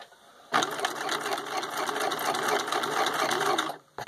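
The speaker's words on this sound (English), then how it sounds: "So I'm just gonna put it in the zigzag mode and do a little sewing here." A Husqvarna Viking 6570 sewing machine stitching in zigzag mode, a steady close mechanical whirr and needle chatter that runs continuously for about three seconds before stopping.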